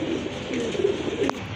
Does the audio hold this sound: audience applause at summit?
no